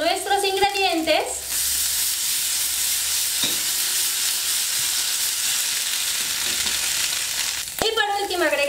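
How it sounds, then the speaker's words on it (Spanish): Sausages with chipotle chiles and chicken bouillon sizzle and get stirred in a pan, a steady frying hiss filling the clip with brief voices at the start and end. "Movemos para que se sazonen todos nuestros ingredientes"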